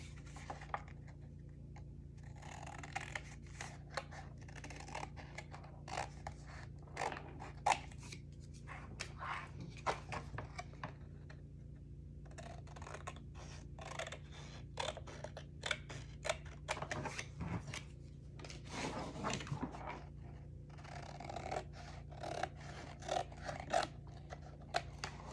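Paper cut with scissors for a scrapbook album: repeated close, crisp snipping strokes in irregular bursts, with quiet rustling pauses between them and no talking.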